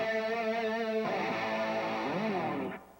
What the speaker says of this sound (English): for a fast rotating speaker sound, I grab the CE5 Chorus Ensemble